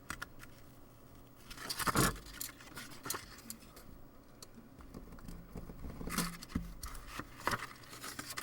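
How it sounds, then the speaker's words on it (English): A knife slicing a fine strip of material while cleaning IBM wire contact relays, heard as a few close scraping, tearing strokes with two stronger cuts amid quiet handling noise. "using our knife, I'll just cut a fine strip"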